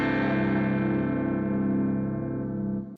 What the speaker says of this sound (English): I have another clean guitar that's just playing like an open strumming